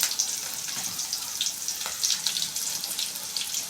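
Onions and green chilies frying in a pan for tomato rasam, a close, continuous hissing sizzle with small crackling pops throughout.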